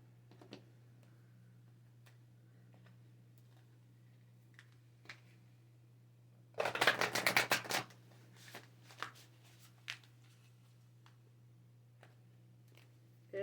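Oracle cards shuffled in a quiet room over a steady low hum: one brisk riffling burst of about a second, followed by scattered soft taps and flicks of the deck.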